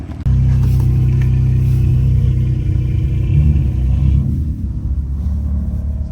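A BMW F80 M3 exhaust with a single mid pipe, OEM muffler and 90 mm single-wall tips rumbles deeply at idle, steady and close, then shifts slightly in tone near the end as the engine note changes.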